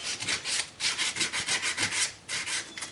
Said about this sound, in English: you just take your sandpaper and go all the way around your commutator here